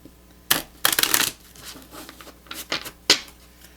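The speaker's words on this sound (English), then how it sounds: "I'm going to shuffle them up." A deck of cards is shuffled up close in several quick riffling bursts with short pauses between them, each a crisp flurry of card snaps.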